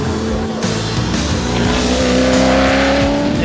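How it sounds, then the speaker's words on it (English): A loud V8 race car engine roars continuously, its pitch climbing steadily as it revs up, with a deep rumbling growl close by. "nothing sounds better than a nice V8 under song"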